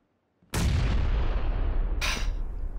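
A grenade detonates in the battle-royale shooter PUBG: one sudden loud blast at about half a second that rolls into a long, heavy rumble, with a second sharp burst of debris or gunfire near the two-second mark.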